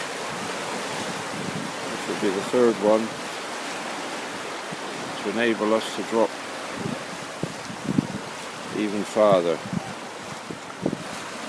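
Water rushes under a canal lock gate as the lock fills, a steady, forceful roar that runs throughout while someone talks over it.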